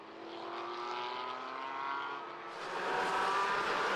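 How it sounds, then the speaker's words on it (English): GT4 race cars roar along the track at speed during a Barcelona winter series race, a steady loud engine drone with shifting revs that swells louder toward the end as cars pass close. "So then the cars are rolling at speed for the first time this weekend in racing conditions."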